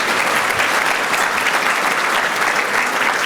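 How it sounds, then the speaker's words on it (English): A large conference luncheon audience gives sustained, loud applause, dense clapping that holds steady throughout with no pauses. "Give Steve and the NYSAC team a round of applause for what they do."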